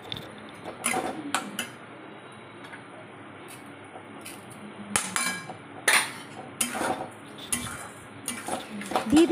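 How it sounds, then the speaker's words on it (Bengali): A spatula scrapes and clinks against a pan while sauces and chow mein are stirred, giving irregular metallic knocks and scrapes at moderate loudness over a faint hiss. "দিয়ে নাড়াচাড়া করে চাউমিনটা দিয়ে দেবো"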